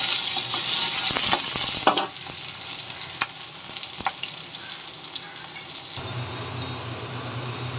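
Onions, green chilli and dried chilli fry in hot oil in a pan, crackling and sizzling loudly at first, then settling into a steady hiss with occasional stirring clinks.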